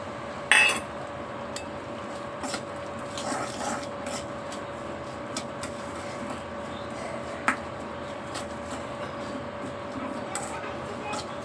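Peanuts being added to caramelised sugar in a pan and stirred, giving soft scraping and light clinks over a steady background hum, with one sharper knock near the start.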